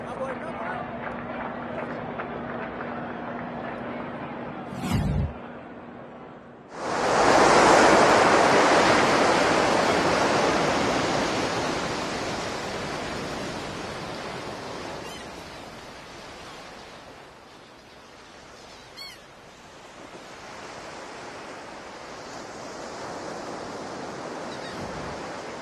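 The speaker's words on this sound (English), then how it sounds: "Sounds of the Atlantic Ocean." Atlantic Ocean surf makes a broad, loud wash of crashing waves that swells suddenly, then slowly fades and rises again, with a brief sharp bump just before the roar begins.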